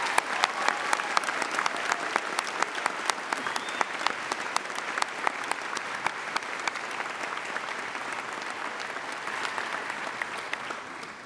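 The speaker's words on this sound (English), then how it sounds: "Please join me in applauding the academic accomplishments of these students." Sustained applause from a seated audience at a 2014 graduate commencement ceremony, a dense steady patter of many hands clapping, moderately distant and fading slightly toward the end.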